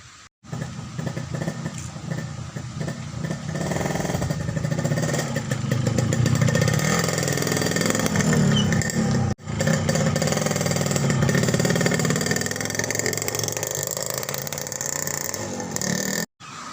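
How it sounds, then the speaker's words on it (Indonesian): A Yamaha RX-King motorcycle engine runs steadily for most of the clip, with a sustained mid-pitched hum that holds at fairly even loudness and then cuts off briefly near the end. "Duh, motor nu dipikir hayang teh liwat."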